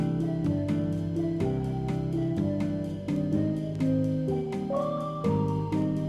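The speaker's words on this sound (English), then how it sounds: "there's a very prominent leitmotif," Leitmotif from the Elevator Hitch game soundtrack, a steady melodic line of stepping notes over sustained harmony, continuous and full throughout with no voices.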